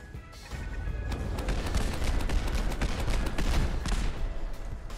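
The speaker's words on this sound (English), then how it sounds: "Grab our automatic grenade launcher here, throw it onto the generator, and let's turn on the AI and let it rip." An automatic grenade launcher turret in a Fallout 4 heavy weapon mod keeps firing, giving rapid, repeated bursts and explosions that build into a dense, continuous barrage.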